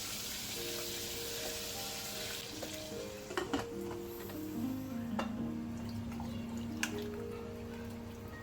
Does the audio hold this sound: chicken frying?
yes